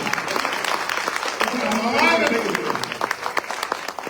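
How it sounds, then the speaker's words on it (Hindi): A crowd claps in a steady burst of applause that swells midway, while a voice talks loudly over it in Hindi at a Teacher's Day celebration and poetry recital. "ताली बजाइए हाथ उठा के जोरदार।"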